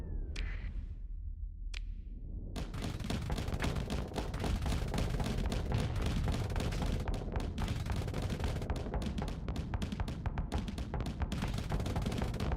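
Ion cannons blast in the space combat game Starsector, a dense, continuous barrage of rapid crackling shots and impacts that runs without pause after a brief whoosh.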